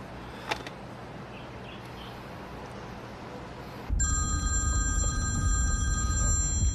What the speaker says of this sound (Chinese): 隋先生，我终于等到你电话了。